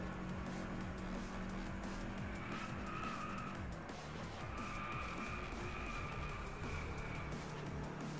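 Race car tires squeal and skid through a corner in the PlayStation 4 racing game DriveClub, over a constant loud engine roar, with the screech rising and falling twice.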